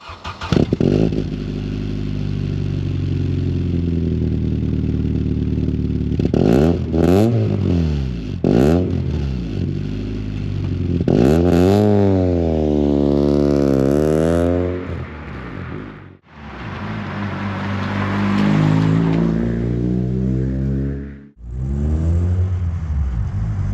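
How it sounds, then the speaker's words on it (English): A Vauxhall Cavalier with a loud exhaust revs hard with rising and falling pitch sweeps as it accelerates through gears, a brief cut in the middle, then steady driving drone. "The exhaust's too loud, really."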